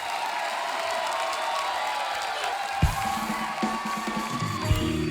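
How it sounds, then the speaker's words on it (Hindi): A studio audience at a comedy talk show claps and cheers in a dense, steady wash of applause, with a few louder thumps and some music mixed in. "ये ताली मेरी बात पे हो रही है या उसके काम पे हो रही है?"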